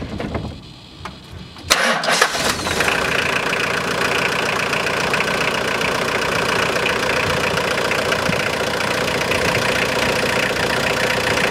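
A 2006 Hyundai Porter engine, just fitted with a new timing belt, cranks briefly, catches at once, then settles into a steady, loud, close idle with a rough, clattery mechanical tone.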